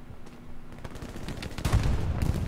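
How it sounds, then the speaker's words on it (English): Bursts of machine gun fire sound from a World War II battlefield in Hell Let Loose, with rapid cracking shots of moderate loudness that build into a denser volley toward the end. "Oh, someone else is shooting at us though, careful."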